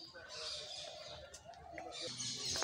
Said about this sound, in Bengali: এটা হচ্ছে তিলাগুগু